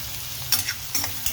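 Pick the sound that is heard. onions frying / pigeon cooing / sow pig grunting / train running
onions frying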